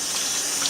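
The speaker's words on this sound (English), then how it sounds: "I'm just going to fill up my little tub here a little bit" Tap water pours steadily into a small tub in a brief, even rush close to the listener.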